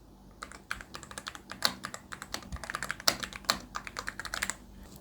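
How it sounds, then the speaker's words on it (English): Typing on a computer keyboard, captured through a remote microphone: rapid, irregular clicking keystrokes in quick bursts, fairly close and clear against a quiet background, with no talking. "This is what it sounds like when I'm typing on my keyboard."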